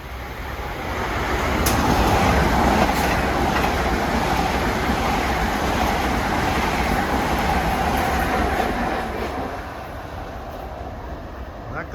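A westbound express train on the New Haven Line roars through Mamaroneck station at speed, a loud, sustained rushing rumble with a clattering edge that swells over the first couple of seconds and then eases toward the end.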